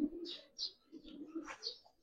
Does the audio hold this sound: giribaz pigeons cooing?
yes